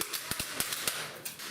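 Training weapons loaded with non-lethal simulated rounds crack off in a rapid, uneven string of about nine sharp pops at close range, with no voices.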